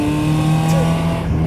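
Alfa Romeo 156 accelerating in second gear, its engine droning steadily and close, with a faint short squeal or whine in the middle and no talk.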